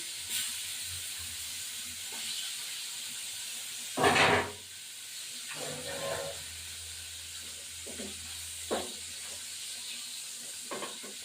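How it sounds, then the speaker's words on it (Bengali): Parshe fish hits hot oil with a sudden loud sizzling burst. The frying then settles into softer hissing and crackles over a faint steady hum. "এবার সব কটা আমি দিয়ে দেবো তেলের মধ্যে তেলটা গরম হয়ে গেছে"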